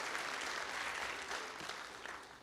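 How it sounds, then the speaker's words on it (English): An audience applauds at a high school senior awards night, steady dense clapping filling the hall without pause, moderately distant and even throughout. "A round of applause to our Patriots from the University of the Cumberlands"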